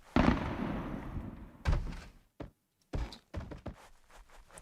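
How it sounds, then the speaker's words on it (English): Explosions go off in the video game VOIMA as a few loud, booming bursts that each fade out, separated by short gaps and fainter thuds. "I love explosions so much"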